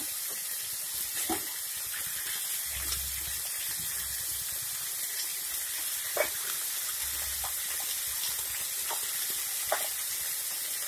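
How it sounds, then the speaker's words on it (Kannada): Eggplant for a North Karnataka baingan vangi palya frying in a pan, giving a steady soft sizzle and hiss throughout with a few faint stirring clicks, close by and without talk. "ಈ ಥರ ಸ್ವಲ್ಪನೇ ಫ್ರೈ ಮಾಡಬೇಕು."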